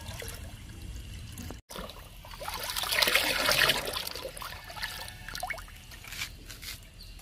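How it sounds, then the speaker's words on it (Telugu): Liquid fertilizer trickling from a container onto potted fruit plants, a steady close dribble and splash that rises in the middle and then continues more quietly, with no voices. "ఈరోజు పండ్ల మొక్కలకి ఇచ్చేద్దాము ఈ లిక్విడ్ని"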